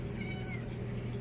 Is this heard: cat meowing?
yes